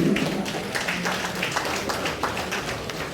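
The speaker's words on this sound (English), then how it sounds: "Let us give you a round of applause again." Steady applause fills an assembly hall after a chairman's closing remarks, a dense wash of clapping holding at even loudness for a few seconds.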